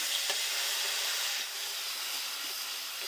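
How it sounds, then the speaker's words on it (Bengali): Masala spice paste hits fried fish in a hot pan, a soft, steady sizzling hiss with a few faint stirring taps, close but fairly quiet and easing slightly midway. "মাছ ভাজা হয়ে গেছে, এখন আমি মশলাটা দিয়ে দেব।"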